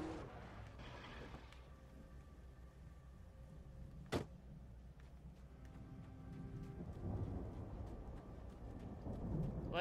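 Thunder in the video game Alan Wake: one sharp crack midway through a faint, low rumbling storm ambience, with no voices.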